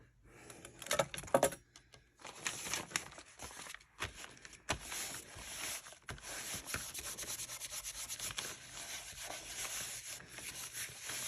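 Paper rubbed by hand onto a gel plate for mono printing, close scratchy scrubbing strokes, sporadic at first and then settling into continuous rubbing, with no talk.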